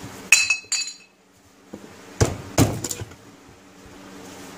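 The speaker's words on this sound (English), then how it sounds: "with all the bolts out, I should be able to pry this power head right out of here" The power head of a 1975 Johnson 4 HP outboard is pried off its lower pan, giving a few sharp metallic clinks and knocks in two short bursts separated by quiet pauses.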